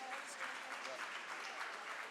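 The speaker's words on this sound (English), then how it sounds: "Please applaud everyone" Steady applause from an audience at the Eurobot 2024 robotics competition finals, a dense wash of clapping hands that stays even and continuous, heard at a modest distance through a hall.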